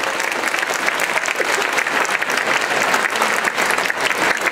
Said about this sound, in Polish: dla obu duże, drodzy Państwo, brawa